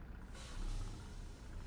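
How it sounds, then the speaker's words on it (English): Air pressure hisses from a custom Kenworth W900L flat-glass truck in American Truck Simulator, a short, close, broad rushing hiss that swells and holds steady. "Love hearing the air leak and stuff."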